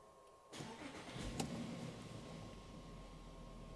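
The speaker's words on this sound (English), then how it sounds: "Let's start the engine." An Audi's engine cranks and catches at about half a second, then settles into a steady idle that continues to the end, heard up close in a workshop during a fault diagnosis.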